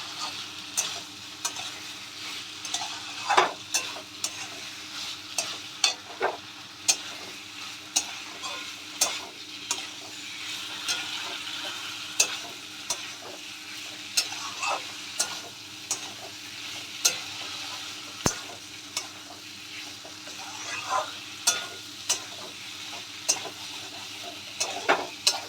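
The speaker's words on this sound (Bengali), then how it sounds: "এবার আলু আর ভেজে রাখা আলু পটলটাও আমরা এই মশলার সঙ্গে দিয়ে কষিয়ে নেব।" Fried potatoes and potol cooking down in spice masala in a pan for Govinda potol, with a steady sizzle and frequent sharp scrapes and taps of a spatula stirring at a close, even pace.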